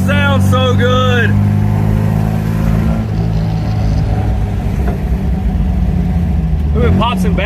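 An MGB GT with an upgraded exhaust rumbles loudly, its engine note rising and falling with crackling pops and bangs during deceleration, while people talk over it at the start and end.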